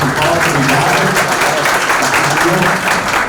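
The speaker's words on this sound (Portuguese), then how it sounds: "presenciando uma salva de palmas a todos que estavam no palco" A loud, continuous wash of clapping from an event audience at the Inova Agro Tour in Rio de Janeiro, saluting everyone on stage, sustained evenly throughout with no pauses.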